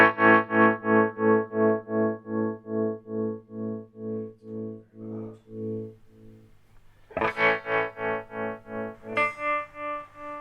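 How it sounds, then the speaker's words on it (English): Distorted electric guitar played through a Fractal FX8 with tremolo, sustained chords chopped into steady rhythmic pulses that slow and fade, then a fresh strummed chord pulsing again, loud and with no talking. "we just recreated about 14 different tremolo pedals that cost a lot of money"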